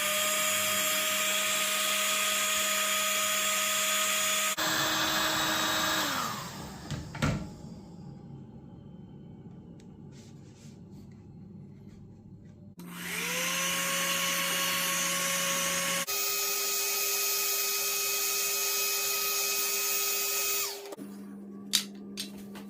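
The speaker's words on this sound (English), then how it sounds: "I'll do this side with the heat gun." A heat gun blowing hot air onto a plastic model car stand, a loud steady whirring roar that cuts off for a few seconds, then starts again and runs steadily, with small clicks and knocks in the pauses.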